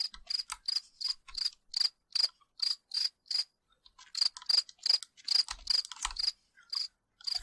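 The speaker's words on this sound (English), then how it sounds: "An extremely noisy cricket." A cricket chirps loudly and close by indoors, sharp high pulsed trills repeating in quick regular bursts with brief pauses between them.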